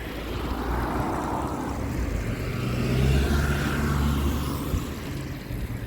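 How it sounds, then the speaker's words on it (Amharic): A car passes near a home vegetable garden, its low broadband rumble rising steadily toward a peak around the midpoint and then easing off as it moves away, with no talking. "መኪና እየሄደ ነው።"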